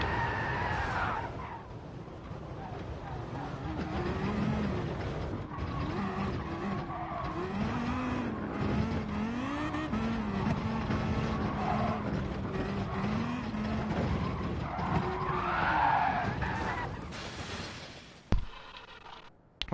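A race car in Gran Turismo Sport runs continuously with a steady engine drone that rises and falls through gear changes, with faint tire squeal and skidding along the way.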